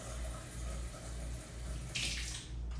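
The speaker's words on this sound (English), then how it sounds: "then you fill it with water right here" Steady rush of running water pouring into the reservoir of an electric ear wax removal kit, a continuous close hiss with a brief brighter splash near the end.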